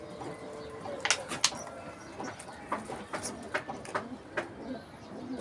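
Pigeons, including young squabs, in a rooftop loft give soft cooing and scattered calls, with sharp clicks and flutters mixed in, moderately near and fairly quiet against a noisy background.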